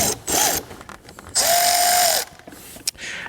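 A compressor-powered air tool works a bolt on a Lexus under restoration, two sharp whirring bursts, the longer one with a rising whine, separated by clicks and ratcheting sounds, close and loud.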